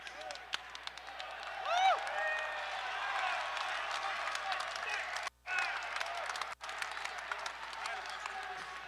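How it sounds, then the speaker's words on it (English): Crowd at a political speech, continuous applause and clapping with cheering mixed in, a dense steady wash of many hands and voices, briefly cutting out twice. "I hear a lot of noise in the crowd."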